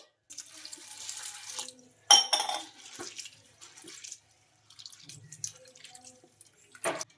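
Intermittent splashing and dripping water as flattened rice is washed, with a few sharper swishes, close and fairly quiet, separated by short silent gaps.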